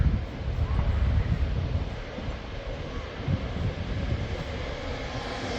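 A Northern train pulls into Preston station, a broad rumbling roar with wind buffeting the microphone, steady and fairly loud throughout with some gusty surges.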